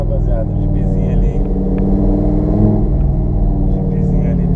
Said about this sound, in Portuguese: O jipezinho ali tá acelerando pra nós